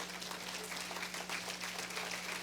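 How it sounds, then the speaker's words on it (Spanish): A church congregation claps during a sermon, a continuous wash of many hands at even loudness, with a steady low electrical hum running underneath. "Dale un aplauso al Señor."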